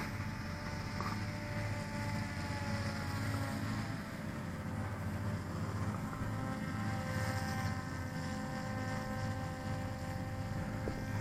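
A Volantex Raptor V2 2000mm RC plane's electric motor hums steadily in flight at partial throttle, a constant drone with faint whining tones, continuous and moderately distant, with no talking.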